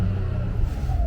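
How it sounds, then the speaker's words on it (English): A high-mileage VW Polo with nearly 200,000 miles idles with a low rumble and gets a light rev that lifts its engine note near the end, heard up close with no talking. "Let me just give it a little bit of a rev."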